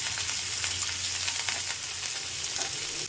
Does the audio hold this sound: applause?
no